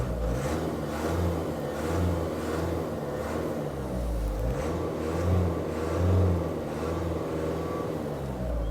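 A 2023 Mahindra Scorpio engine idles and revs freely, a steady mid-pitched hum with gentle rhythmic swells and faint fine clatter underneath, heard close up without talking.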